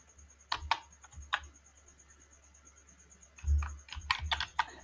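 Keys clatter on a computer keyboard while code is typed, in short irregular bursts of clicks with a pause mid-way, close and fairly quiet with no talking.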